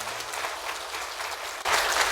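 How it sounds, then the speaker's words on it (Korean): A church congregation claps loudly during a Sunday service after praise singing, steady applause that swells sharply louder near the end. "한번 더 크게 박수합시다."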